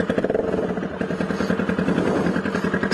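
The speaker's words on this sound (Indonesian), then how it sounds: "Jelek banget karena knalpotnya baru aja lepas." Motorcycle engine idling loudly with its exhaust muffler freshly detached, giving a raw, rough, rapidly pulsing rumble that runs steadily and close throughout.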